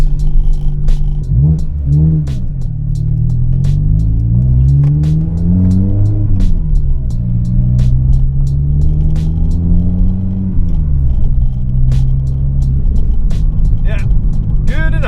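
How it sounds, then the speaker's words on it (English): A petrol R56 Mini's engine is revved hard, climbing and falling through several loud, close rising and falling pulls over a steady rumble, with a voice talking over it at times. "These cars just need revving."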